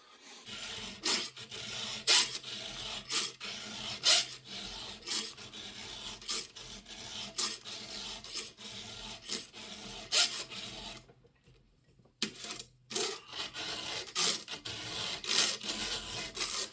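Hand file rasping along a chainsaw chain, in the wood with a Homelite XL922 saw: repeated close, bright strokes in an irregular rhythm, with a brief pause near the end before the filing resumes.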